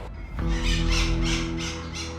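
Wild birds being smuggled on a road, packed together and squawking loudly in a continuous overlapping chorus of harsh calls with a steady low vehicle rumble underneath.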